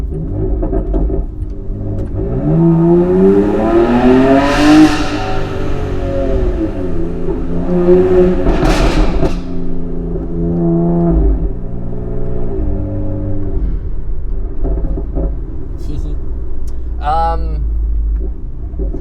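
A 710hp BMW X3M on the Nürburgring roars loudly as its engine accelerates hard, pitch climbing through the gears with brief dips between shifts, while people talk inside the cabin over the steady engine rumble.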